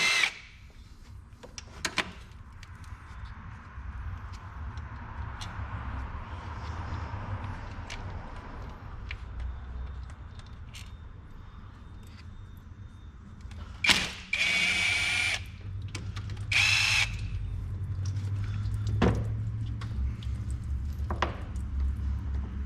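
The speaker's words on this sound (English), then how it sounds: "we're going to go ahead and remove the actual thermostat, held in with these 3 10mm bolts" A power tool, likely a drill or impact driver, removing the 10mm thermostat housing bolts on a Chevy 4.3 V6 engine, in a few short whirring bursts against a quiet workshop background.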